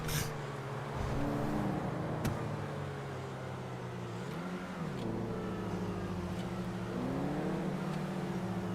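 Ferrari Testarossa driving in a video game, its engine droning steadily throughout with rising and falling pitch as it revs and shifts, plus a few sharp clicks, loud and close with no talk.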